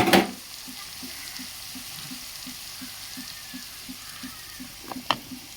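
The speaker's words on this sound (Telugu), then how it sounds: "కట్ చేసి పెట్టుకున్న బంగాళదుంపలు కూడా వేస్తున్నానండి" Cut potato pieces frying in a pan, a steady soft sizzle under a regular tapping pulse, opening with a sharp clatter as they drop in and ending with a couple of stirring knocks.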